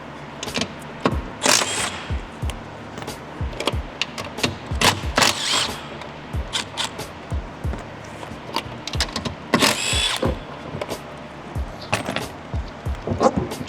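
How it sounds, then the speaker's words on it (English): A power tool backs out the 13mm bolts holding a tow mirror on a 2020-2025 Sierra or Silverado truck, firing in short repeated bursts with sharp metallic clicks and rattles between them, close and fairly loud. "Remove the four 13mm bolts."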